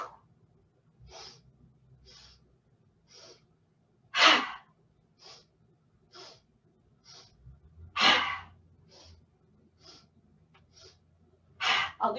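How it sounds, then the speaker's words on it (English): Breathing sounds during a mindfulness exercise. A series of soft, evenly spaced breaths is punctuated by three loud, forceful exhalations with whooshing bursts of air, about four seconds apart and close to the microphone. "remember this is a forceful exhalation"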